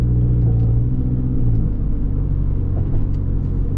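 2015 Scion tC fitted with a K&N short ram intake, heard from inside while driving: a loud, steady low engine rumble and drone with a slight rise in pitch early on, no voices.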